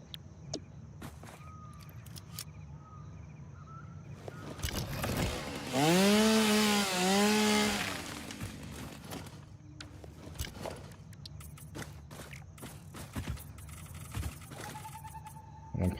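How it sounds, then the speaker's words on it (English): A chainsaw cutting a tree in Satisfactory 1.0 buzzes for about two seconds midway, rising and falling in pitch. It is loud against otherwise quiet game ambience. "Right, let's get rid of this tree."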